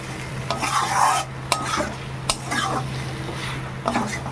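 Jackfruit and moroola fish curry being stirred with roasted spice powder in a pan, a steady close sizzle with scraping strokes and a few sharp utensil clinks against the pot.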